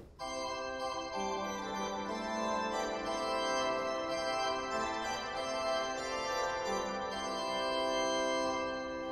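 A high mixture stop on the West Positive, the top manual of the Gloucester Cathedral pipe organ, sounds a continuous brilliant, piercing chord texture rich in high partials, shifting slowly between chords, alone and sustained.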